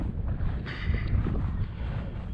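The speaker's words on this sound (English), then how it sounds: "The winds came up, man." Strong wind buffeting an outdoor microphone at a park airfield after an RC Stearman PT-17 landing, a continuous low rumbling roar with gusty swells, heard with no talking.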